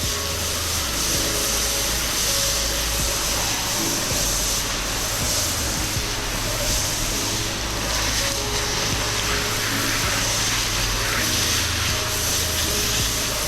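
An 8 GPM pressure washer with a soap tip rinses down a house, soffits and windows, a loud, constant engine roar with steady spray hiss, close and unbroken throughout with no talking.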